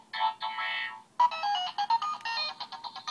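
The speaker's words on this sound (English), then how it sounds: "And now we're getting a phone call, so we press this button here to pick it up." A Kamen Rider Fourze Magphone toy rings with an incoming call, playing a loud, close electronic ringtone melody of bright repeating tones, one phrase then a brief pause and a longer choppy run, with no talk.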